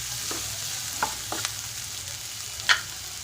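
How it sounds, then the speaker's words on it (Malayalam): Fenugreek leaf curry with onions being stirred in a pan, a soft steady sizzle with a few light scrapes and taps of the spoon, no talking. "നമുക്കൊന്ന് ഇളക്കി കൊടുക്കാം."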